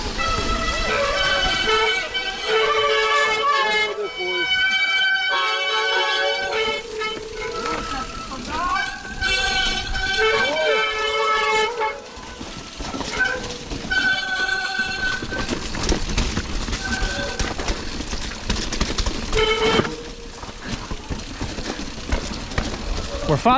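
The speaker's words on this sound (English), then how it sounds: "that's what you're hearing, guys, is a bunch of wet brakes" Loud, high-pitched squealing from wet bicycle brakes, rising and falling in repeated bursts, with trail noise and voices underneath.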